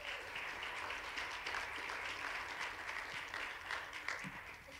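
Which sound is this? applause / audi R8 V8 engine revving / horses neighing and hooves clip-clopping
applause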